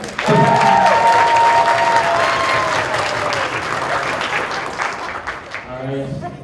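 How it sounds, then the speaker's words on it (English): Audience at a C2E2 2025 improv Dungeons & Dragons show applauds the villains, a loud burst of clapping with some cheering and voices on top that tapers off toward the end. "we'll give a round of applause for your villains"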